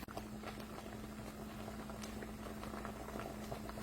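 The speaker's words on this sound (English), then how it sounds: "So I've got some water boiling right now." Water boils steadily in a pot for brown rice, a constant close bubbling hiss with a low steady hum beneath it and no talking.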